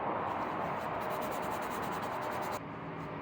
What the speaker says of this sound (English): we're going to use our scuff pad. And we're going to create some micro scratches in the surface of the item